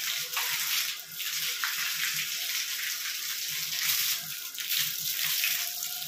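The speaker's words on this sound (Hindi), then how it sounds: "गिराओ पानी इस पे" Water being poured, a continuous splashing gush that runs for several seconds with brief dips, fairly close, without talk.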